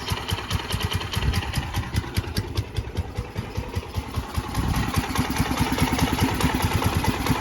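A 2005 Suzuki GZ250 barn-find motorcycle idles running rich, its small engine chugging in a fast, slightly uneven pulse close up, getting a bit louder and steadier toward the end.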